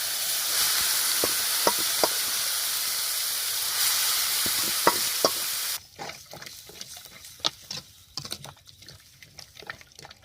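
Gravy poured into a pan for an urad papad curry sizzles and fries steadily while being stirred, with spoon clinks; the loud hiss cuts off partway and gives way to quieter scraping and tapping.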